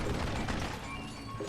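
Reloading a weapon in Call of Juarez Gunslinger: a steady run of mechanical clicking and ratcheting, close and fairly loud, with no talk.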